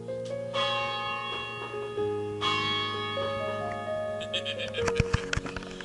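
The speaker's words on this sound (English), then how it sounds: "so you pull the rope here, and then there's the whole series of pulleys to the bell" A church bell in a historic round church, rung by pulling a rope linked through pulleys, sounds as several ringing, harmonic strokes with long sustained overtones, followed by clattering, irregular knocks near the end.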